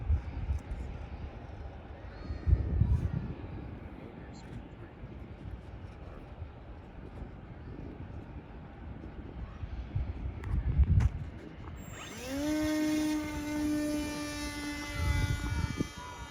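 A drone fitted with a CUAV Airlink 4G module spins up and lifts off with a rising, whining motor pitch that holds steady at the end, following outdoor wind rumble, footsteps and brief talk.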